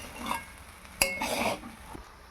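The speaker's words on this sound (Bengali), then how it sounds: "এবার ভেজে রাখা চিকেনগুলো এর মধ্যে আমি দিয়ে দেবো, দিয়ে এটাকে ভালো করে আমি নেড়ে নেব।" Fried chicken is stirred into fried rice in a pan: short scraping and stirring noises with one sharp clink of utensil on pan, over a low sizzle.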